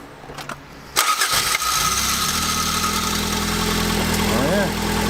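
A manual Toyota MR2 cranks briefly and catches about a second in, then settles into a steady, close engine idle with a faint low rumble throughout.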